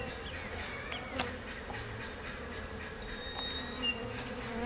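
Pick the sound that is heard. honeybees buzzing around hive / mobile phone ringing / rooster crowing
honeybees buzzing around hive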